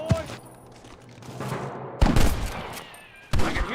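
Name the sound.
gunshots in the video game Red Dead Redemption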